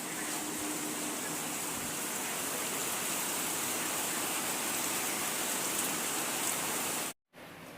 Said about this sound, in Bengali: এখন প্রচণ্ড বৃষ্টি হচ্ছে।